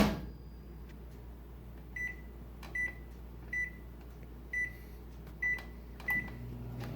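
A microwave oven melting butter at a medium power setting runs with a quiet, constant low hum, while a series of short, evenly spaced tones repeats over it about once a second.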